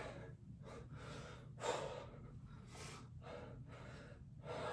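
Heavy, rhythmic breathing comes from someone during a full-body HIIT ladder workout, a series of quiet close-miked breaths with gasping exhales, steady and alone.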